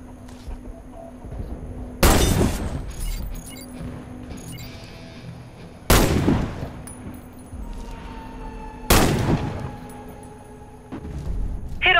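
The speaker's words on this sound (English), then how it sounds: "Hit all the targets with your Sniper rifle." Three loud sniper rifle shots ring out in Warface sniper training on PS4, spaced about four seconds apart, each a sharp crack with a long decaying echo over a faint steady hum.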